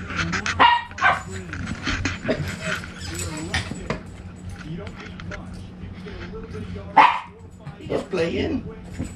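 A dog barks in a few sharp bursts during a New Year's get-together, loud and close, with people chatting around it.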